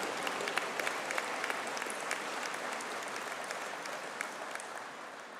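Sustained applause from a graduation conferring ceremony audience honouring software design graduates, a dense steady wash of many hands clapping at even loudness throughout.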